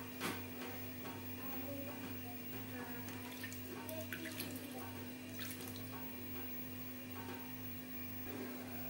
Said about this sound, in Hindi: साथ में मैं थोड़ा थोड़ा पानी डाल के इस तरह से ऐड कर लूँगी।